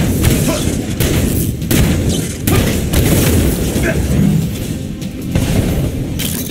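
Explosion of a destroyed power core in a video game: dense, loud booming blasts and bursts rolling continuously with low rumble, mixed with game sounds and speech throughout.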